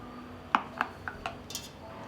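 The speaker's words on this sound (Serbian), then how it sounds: "Treba mi jedna šerpa, na dno ću staviti krpu i unutra ću poređati tegla" Glass jars set down one by one into a cooking pot lined with a cloth for pasteurizing compote, a handful of light clinks and taps close by, spaced irregularly.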